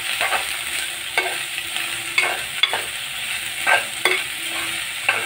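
A spoon stirs an okra stir-fry in a hot pan, scraping in regular strokes over a steady soft sizzle, close and alone without any talking.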